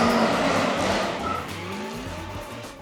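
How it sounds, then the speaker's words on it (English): A stunt car drifts with loud tire squeal and skidding over a revving engine, the squeal sliding in pitch and fading slightly as the car moves past. "It's all done by stunt drivers and doing some amazing drifts out there."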